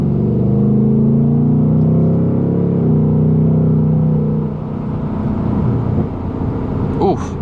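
A 2024 Mustang GT driving at night: a steady, close engine drone that eases off, then a single sharp exhaust pop cracks out near the end.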